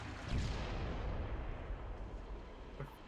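A rocket launcher fires in Halo during a 2v2 tournament match, a loud deep boom and rumbling blast in the first half second that rolls on as sustained low roar and fades slowly, with no talk.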